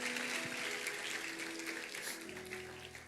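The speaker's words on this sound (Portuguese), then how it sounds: "Uma salva de palmas para a minha equipe." Congregation at a church service applauding the worship team: steady, dense clapping from a crowd that gradually fades over a few seconds, heard at a moderate distance with no talking.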